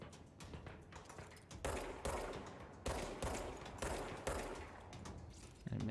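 Video game gunfire in bursts, loud volleys starting at intervals and overlapping a steady busy background of action sounds.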